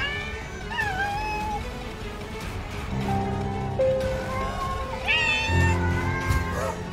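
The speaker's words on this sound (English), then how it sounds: "to death by cat sounds" Cat meowing sound effects played during a Spelunky 2 stream, several drawn-out, wavering meows and caterwauls overlapping each other, loud and close over a busy background of game noise.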